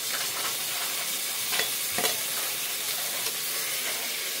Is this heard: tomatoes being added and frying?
yes